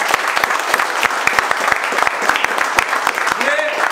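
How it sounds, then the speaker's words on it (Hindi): Loud, steady applause from a crowd, dense clapping filling the space without pause, with voices faintly underneath. "तो एक बार जोरदार ताली भाई।"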